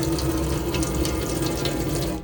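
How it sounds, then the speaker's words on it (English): Water running steadily from the cold side of the tap in a Burstner Elegance 591 motorhome, a close, continuous splashing rush at good pressure with no sputtering, ending abruptly. "Basically, just pull the water through on the cold side."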